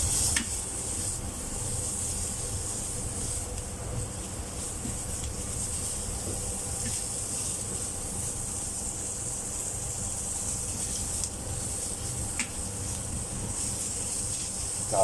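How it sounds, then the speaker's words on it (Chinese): Bacon frying in a pan gives a soft, steady hiss and crackle with occasional small pops, faint and close, running without any talk. "就白落落啲煙肉，聽到啲炸一聲啊"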